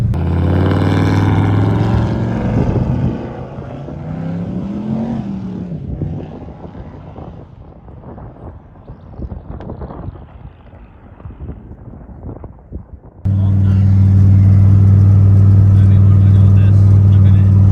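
A turbocharged Foxbody Mustang sleeper engine running on 10 pounds of boost, a loud steady drone at the start and again at the end, with a quieter stretch of talk and wind buffeting in between.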